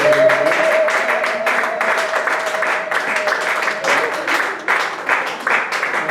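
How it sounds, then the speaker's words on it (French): A church congregation applauds in a sustained, dense patter of clapping for several seconds. A faint tonal voice or hum runs underneath early on. "Est-ce qu'on peut applaudir notre Dieu dans le ciel?"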